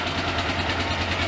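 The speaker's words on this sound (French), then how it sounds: "De toute façon là le moteur il tourne pas au régime" A Yamaha XTZ 660 Ténéré 3YF motorcycle engine idles close by, a steady low throbbing thrum with a faint rhythmic pulse. The single engine runs unevenly, and the bike has a burnt clutch.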